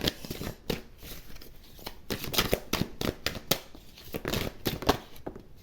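Tarot cards shuffled close up, with a run of quick papery riffles and flutters coming in uneven bursts for several seconds, no voices.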